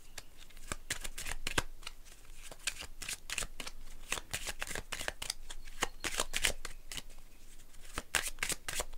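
Tarot cards are handled, shuffled and drawn, giving a quick string of crisp papery flicks and slides, close and fairly quiet, with no talking.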